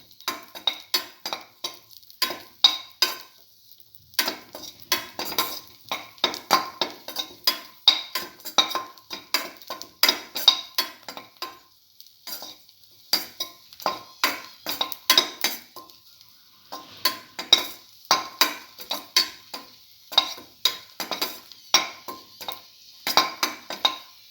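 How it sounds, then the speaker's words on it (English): Vermicelli sautéing in a pan, heard as rapid clinking and scraping of a utensil against the pan in steady bursts with short pauses, close and fairly loud, with no talk. "Saute."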